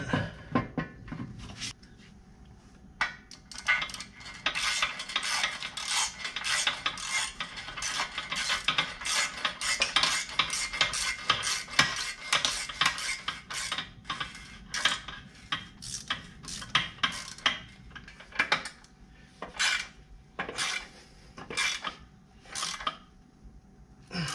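Repeated sharp metallic clicks and ratcheting taps of a wrench tightening bolts on a ZEAK 10,000 lb winch base plate on a garage floor, close by, irregular bursts continuing for a long stretch with short pauses.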